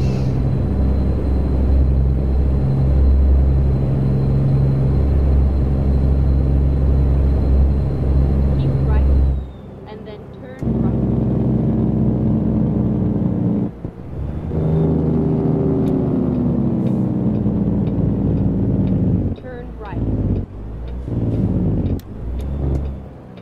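Steady, loud low rumble of truck road noise with a Z-Mod sound mod in American Truck Simulator, a continuous engine and tire drone that briefly drops out and shifts in pitch, with talk over parts of it.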